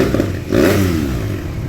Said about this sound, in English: we're going to do some revs, rev the engine a bit